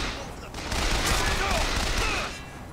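Rapid gunfire in the video game Bioshock Infinite, a dense continuous fusillade of overlapping shots lasting the whole moment, loud and close.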